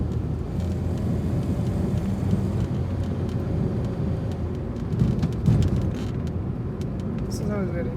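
A 2004 Toyota Corolla X drives through Chattogram city traffic, its engine and road noise a steady low rumble inside the car, with voices heard in the cabin.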